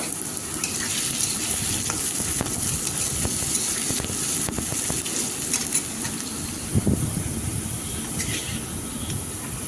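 Potato pieces frying in hot oil, a steady dense sizzle with crackling bursts running throughout, close and fairly loud, with occasional clinks and stirring; no one speaks.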